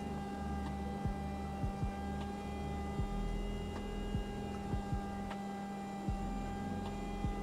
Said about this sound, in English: it sounds like a vacuum because we had an engine failure and the rat is deployed